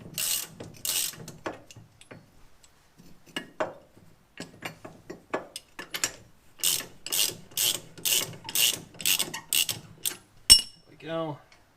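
Ratchet loosening the lower ball joint bolt on a 1997 Ford Thunderbird Super Coupe, a run of about ten sharp, evenly spaced clicking bursts close by, following scattered lighter metallic taps and clinks.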